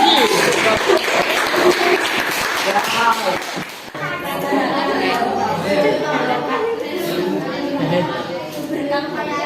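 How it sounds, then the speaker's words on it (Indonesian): Classroom applause from students for a group coming forward, a burst of clapping and chatter in the first few seconds that gives way to voices talking in the room. "Beri tepuk tangan ibu ya"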